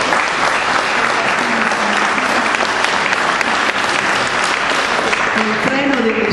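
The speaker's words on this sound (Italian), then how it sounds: "io vorrei un grosso applauso per questa persona" A poetry contest audience gives loud, sustained applause, dense clapping filling the room without pause while a voice speaks faintly beneath it.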